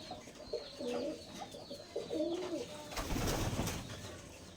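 A few pet pigeons at home coo in soft, throaty, rolling phrases close by, the calls repeating over a faint background, followed by a brief burst of rustling or fluttering near the end.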